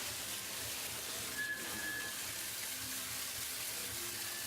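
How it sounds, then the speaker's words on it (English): High-powered water gun blasting mined ametrine-bearing material at a Bolivian washing plant, a steady broadband hiss and spray that runs continuously and fairly faint throughout. "all of this material is washed with a very high-powered water gun"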